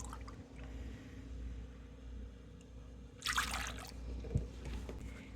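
Milk and sweetened condensed milk are poured into a bowl for pudding: a quiet, short liquid splash about midway, with a faint dribble and low background hum around it.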